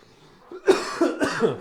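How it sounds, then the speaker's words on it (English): Several harsh coughs burst out close to the microphone after a quiet moment, coming in quick succession. "Sorry if I'm coughing a lot."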